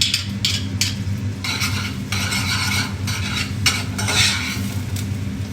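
Chopped onions and garlic sweat gently in melted butter in a pan, giving a steady soft sizzle with repeated stirring scrapes and light utensil clicks throughout, no talking.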